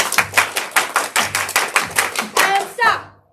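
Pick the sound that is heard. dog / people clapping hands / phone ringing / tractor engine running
people clapping hands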